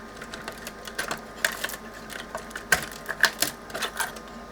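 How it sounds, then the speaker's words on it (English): Connectors being unplugged from the capstan servo control board of a Revox reel-to-reel tape machine: a series of small plastic clicks and taps, close and fairly quiet, spaced irregularly over faint background noise. "So I'm going to disconnect all the connectors off this board."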